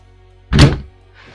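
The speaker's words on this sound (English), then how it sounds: "Now I'm going to put the box mag in. Scoop that into place." A box magazine on an MCR airsoft replica seats with one sharp, loud thunk, close to the mic. Its short resonant tail dies away fast into quiet.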